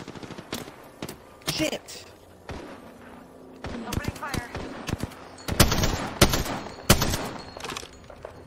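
Gunfire in the battle-royale game Apex Legends comes as sharp bursts and single shots, some close and loud, scattered across the clip while a player talks and swears over them.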